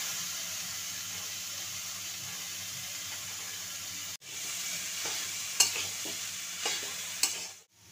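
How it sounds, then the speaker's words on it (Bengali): Potatoes and soaked lentils stirred in a frying pan for a vegetarian Bengali banana-stem curry, a steady close sizzle with a sharp scraping clatter midway and a few spatula knocks toward the end. "আমি এবার আলুগুলো দিয়ে দিলাম। ডাল ভিজিয়ে রেখেছিলাম, ডালগুলো দিয়ে দিলাম।"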